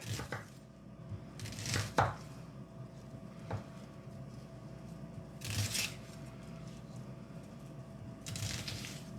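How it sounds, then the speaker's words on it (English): A knife chops onions on a board in a few separate bursts of quick, crisp cuts, fairly quiet, with pauses between them. "Now to chop your onions like the Chinese."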